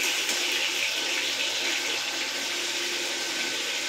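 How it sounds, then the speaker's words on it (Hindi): Eggplant sizzles in hot frying oil, giving a loud, dense, continuous hiss that stays even throughout, with no one speaking. "इसके बाद हम तेल में तल लेंगे।"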